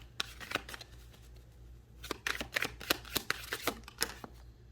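Tarot cards are shuffled for a reading in a quiet room, with a rapid series of crisp riffling bursts that pause briefly and then resume in quick, close flurries.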